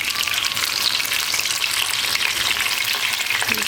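Potato slices frying in hot oil in a pan give a steady, dense sizzle that holds close and loud throughout, with no voices over it.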